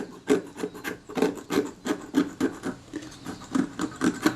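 Metal tool scraping adhesive off the metal casting of a Kodak Retina IIIS camera during repair, a close, rhythmic series of about a dozen short rasping strokes at an even pace, with no talking.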